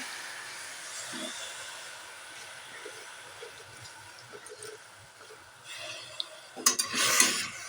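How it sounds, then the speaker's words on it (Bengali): Jute leaves are stirred in a wok with a faint continuous hiss and quiet scraping. Louder clattering and scraping of the utensil against the pan come near the end. "খানিকটা নাড়াচাড়া করে নেবো"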